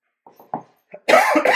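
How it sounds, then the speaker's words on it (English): Several short, sharp coughs in quick succession, then a louder, rougher burst of coughing or throat noise at close range. "You're already coughing."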